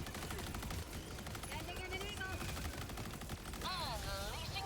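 An autocannon turret fires rapid bursts in the video game Helldivers 2, dense repeated shots under a busy game mix, with a voice talking over the gunfire.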